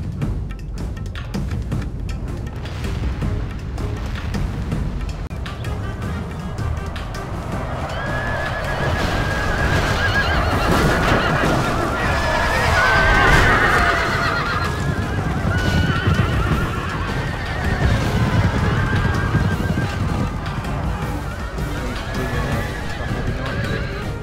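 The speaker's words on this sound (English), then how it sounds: "I brought my horses in as well, and I just kept on with the charge" Cavalry horses charge in the Medieval 2 Total War video game, with repeated whinnies and neighs over a steady rumble of galloping hooves and battle noise, loud and continuous for the whole stretch.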